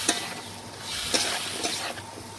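Bottle gourd and potato with spices stirred in a pan, a hissing sizzle with a few sharp scraping strokes of the spatula against the metal.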